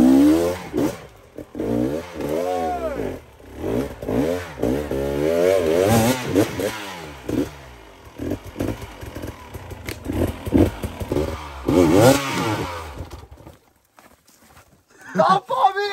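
An enduro motorcycle climbs over rocks in first gear during Romaniacs training, its engine revving up and down in repeated short bursts, close by, with voices talking over it.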